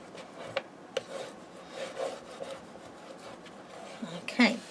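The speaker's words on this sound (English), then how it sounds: "So when you're happy, we can burnish that down" A paper cover is burnished down onto an 8 x 8 album with light, scratchy rubbing strokes, faint and intermittent, ending in a slightly louder scrape; a voice murmurs quietly in the background.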